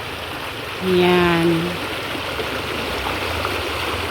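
The Limulan river rushes in a steady, broad flow, close by, with someone briefly speaking over it.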